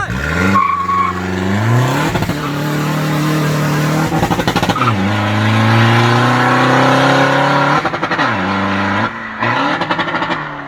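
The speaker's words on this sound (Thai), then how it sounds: "ระเบิดตัดดังลั่นเลย" A turbocharged pickup's engine revs hard and climbs through several gears, each shift cutting the sound with sharp rev-limiter pops and crackles, loud and close.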